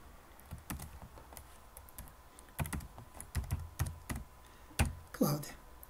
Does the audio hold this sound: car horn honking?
no